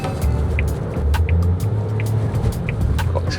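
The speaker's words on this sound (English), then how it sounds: "The car proper picks up speed." A rental car driving in Japan gathers speed, heard from inside as a steady low engine and road rumble with broadband tire hiss, fairly loud and continuous.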